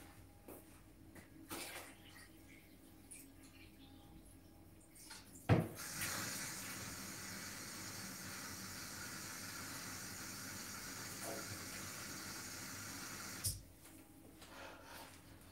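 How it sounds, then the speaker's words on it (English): Tap water runs into a home kitchen sink while hands are washed, a steady close hiss of flowing water starting with a clunk and stopping abruptly, with faint clatter before and after. "Before I start, I wash my hand."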